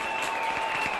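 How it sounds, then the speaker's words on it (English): Crowd applause in the college football video game CFB27 at halftime, a dense, steady burst of clapping filling the whole moment. "We're going to clap it up for the boys in the cherry and silver."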